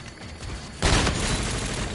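Sniper rifle gunfire in the shooter Call of Duty: Infinite Warfare, one loud, abrupt blast that breaks in partway through, after a quieter stretch of game noise, then sustains as a dense, rumbling wash.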